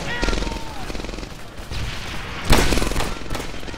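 Bursts of MP40 submachine-gun fire from the video game Medal of Honor crackle in short rapid volleys, with a sharper, louder burst midway, mixed with game sounds.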